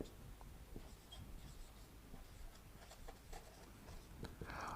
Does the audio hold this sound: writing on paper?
yes